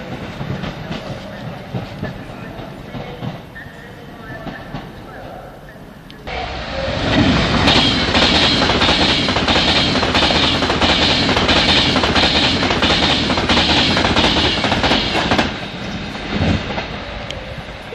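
Northern electric train units pass through Crewe station, a loud rumbling run with rhythmic wheel clatter that starts abruptly after a quieter stretch of platform ambience and fades slightly near the end.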